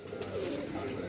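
Pigeons coo softly in a low, steady murmur, a faint continuous burble from a loft of racing pigeons.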